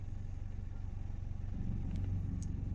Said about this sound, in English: It's a car coming.